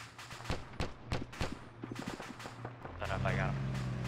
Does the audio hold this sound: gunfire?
yes